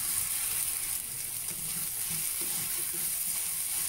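Ginger garlic paste sizzles and fries in a pan for ghee rice, a steady, close crackling hiss that carries on without a break, with faint stirring and no voices.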